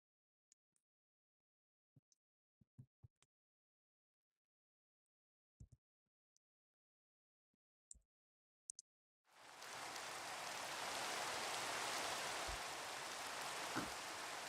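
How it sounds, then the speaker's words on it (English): Rain falls in the Minecraft video game as a dense, steady hiss that starts abruptly partway through after near silence broken only by scattered small clicks and taps. "Did they change the rain?"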